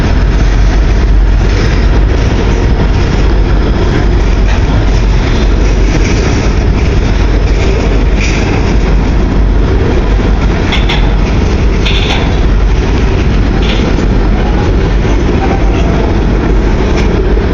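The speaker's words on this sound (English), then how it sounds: "This is a really long train." A long CN freight train rolls past close by with a loud, continuous rumble and steady wheel noise that does not fade for the whole stretch. Faint squeals rise over the roar now and then.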